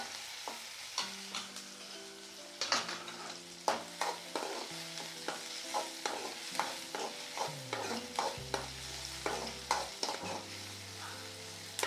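Onions with ginger and about ten garlic cloves sautéing in a pan for kara chutney, giving a soft, steady sizzle under frequent ladle scrapes and taps that are fairly quiet and unhurried.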